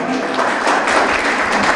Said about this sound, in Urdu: ذرا زور سے ایک بار تالیاں